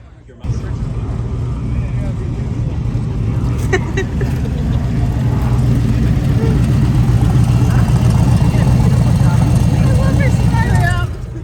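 An Isky T car at a Cars and Coffee meet, its engine starting loud after a quiet moment and rumbling steadily as it pulls away on a cruise, with people talking over the engine noise.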